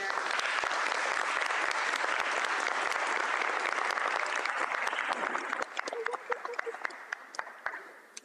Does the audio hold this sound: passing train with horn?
no